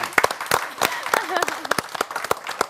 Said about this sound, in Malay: tepukan kepada Azmi